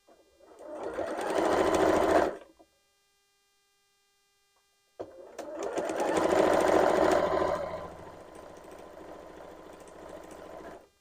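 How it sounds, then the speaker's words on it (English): Sewing machine stitching quilt pieces together for a triangle-in-a-square block: a rapid, close mechanical whirr runs for about two seconds, stops for a silent gap, then resumes in a longer burst that slows toward the end. "We're going to sew this side together."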